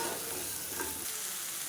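Halved tomatoes sautéing in a pan for a kodo millet dish, a steady close sizzle and frying hiss with soft stirring throughout, no voices.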